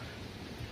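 Thunder rumbling with steady rain, heard during a nighttime visit to a reportedly haunted house; a continuous, full low roar with dense rain noise and no break across the short stretch.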